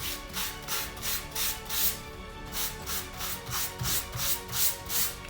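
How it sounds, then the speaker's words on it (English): Rhythmic back-and-forth sanding with sandpaper, roughly a dozen steady scratchy strokes close up, with no talking. "just get a sandpaper and then start sanding them a little bit"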